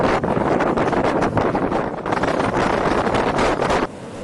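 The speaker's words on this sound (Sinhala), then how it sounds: "මන්නාරම වෙරළ තීරයට ඊයේ පස්වරුවේ දැඩි සුළං තත්ත්වයක් හටගෙන තිබෙනවා" Strong wind gusts roaring across the open Mannar coastline under rough sea conditions, a loud continuous buffeting with surging peaks and dips, close to the microphone, with no voices.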